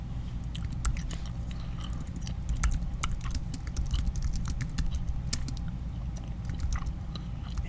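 Keyboard typing in quick, irregular clicks, mixed with gum chewing as sports cards are reviewed, steady and close throughout with no talking.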